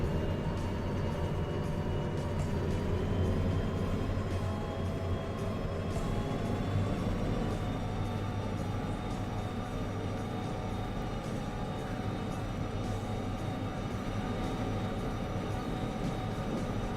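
A locomotive running in the Derail Valley train game, a steady rumbling drone with low engine hum and a faint rising whine, continuous and close, with no talking.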